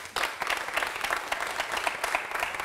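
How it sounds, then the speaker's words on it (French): A room full of people breaks into applause after a short pause, brisk dense clapping that holds steady and fairly close for a few seconds with no speech over it. "Mais comme feu Ahmed Bakaïko, j'aimerais qu'on applaudisse."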